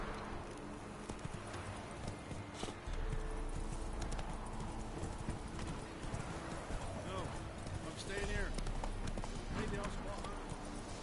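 Roach, a horse in The Witcher 3: Wild Hunt, gallops with rapid rhythmic hoofbeats that continue throughout, overlaid with game ambience and someone talking.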